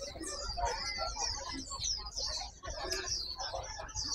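Caged birds, including mynas, chirp, whistle and cluck busily at a pet bird market in Hai Phong. The calls overlap constantly, some near and some farther off, against faint market bustle.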